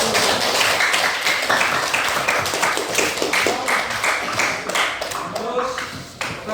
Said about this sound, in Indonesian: Aplaus dulu.